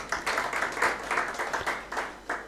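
An audience at the launch of a political education training manual for persons with disabilities claps together in a brisk, rhythmic burst, the pulses loud and regular throughout.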